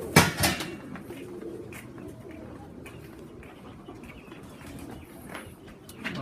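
Pigeons in a family loft coo softly in the background, with a few brief flutters and chirps over a low, steady ambient hum and a sharp knock near the start.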